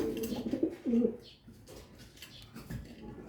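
A roughly five-year-old pigeon hen coos close by, a couple of low throaty rolling coos near the start followed by quieter coos and faint rustling, with a brief voice in the background.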